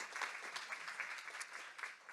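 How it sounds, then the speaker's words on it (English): An audience gives the speakers a round of applause, a faint, steady wash of many hands clapping at a real estate talk. "we'll give a round of applause to our speakers"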